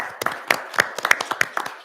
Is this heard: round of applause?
yes